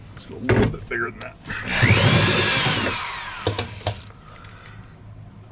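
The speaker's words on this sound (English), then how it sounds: "you want to drill a hole slightly bigger than that 8mm screw" A power drill boring a hole through a window motor mount on a Ford truck door, a loud grinding whir lasting about two seconds, with shorter bursts and handling clatter around it.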